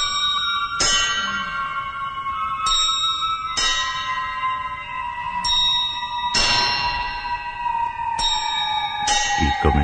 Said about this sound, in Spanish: Y comenzaron a oírse las campanadas que el reloj no podía dar.